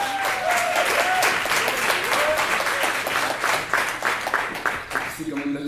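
A lecture audience at a Sciences Po Lyon conference applauds the organiser, loud continuous clapping from a packed room that tapers off at the end as a voice begins.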